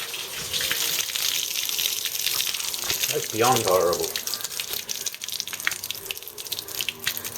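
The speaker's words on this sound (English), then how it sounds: "So I'm going to dump this bottom hose and see what kind of nasties come out" Rusty, muddy water pours steadily from a car's bottom radiator hose onto the ground, a continuous close splashing gush with someone briefly speaking over it.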